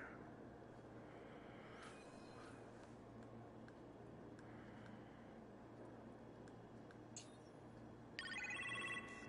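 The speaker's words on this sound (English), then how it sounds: "Phone's ringing." A telephone rings in the Ironman VR video game, with faint repeated trilling bursts over a steady low hum and a brighter ring near the end.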